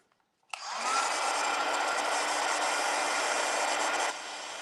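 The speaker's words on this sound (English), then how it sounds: "So what I did was do the grid, stamp the dates on top again, and I'm going to heat set them." A heat tool blows steadily to set freshly stamped ink on a paper grid, a loud continuous airy whoosh that starts abruptly and holds for several seconds before dropping slightly near the end, with no talking.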